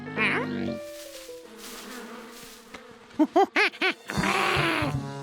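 A buzzing swarm of bees from a Curious George cartoon drones amid cartoonish tones and short, bouncy vocal-like sounds, growing louder and denser toward the end.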